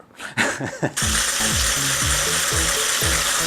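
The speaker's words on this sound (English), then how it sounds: "we are going to start beating our egg whites into a meringue." A whisking gadget beats egg whites into meringue, giving a loud, steady frothy hiss with a regular rhythmic mechanical pumping underneath, preceded by a few brief knocks as it starts.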